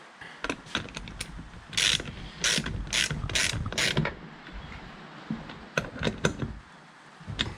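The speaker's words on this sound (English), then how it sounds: "Alright, so we need the socket." Socket ratchet tightening a nut with washer and spring washer on a leaf blower, giving bursts of quick close clicking with short pauses between runs of strokes.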